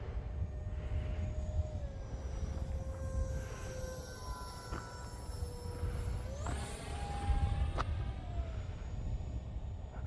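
Radio-controlled A-4 Skyhawk scale jet model powered by an E-SUN .48 engine, flying overhead at a distance, a faint whining tone that rises and falls in pitch as it passes against a rumbling outdoor background.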